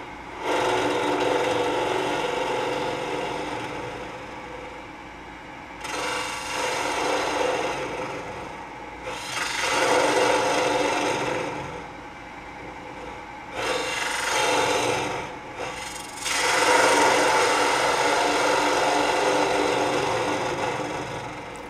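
A wooden toothpick holder spinning on a lathe while a tool cuts it, giving a loud rasping, scraping hiss in long strokes of several seconds broken by brief gaps, with the piece turning off-true.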